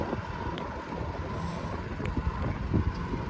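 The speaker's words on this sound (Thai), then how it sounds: "ที่เราได้ยินกันอยู่ตอนนี้ก็ มีรถนะครับวิ่ง สัญจรไปมานะครับ ด้านหลัง" Car traffic rolls past behind the microphone outdoors on a windy day, a steady broadband wash of engine and tyre noise with heavier vehicle swells and no talk.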